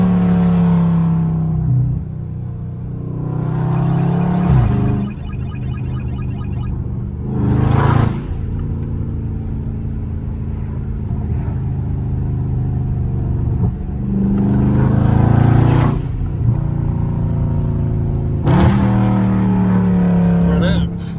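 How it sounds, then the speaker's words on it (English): Catless Scat Pack exhaust in sport mode, roaring through repeated hard revs and downshift blips while accelerating in traffic, loud and close, with a steady engine drone between the bursts. "Sport downshift is sickening"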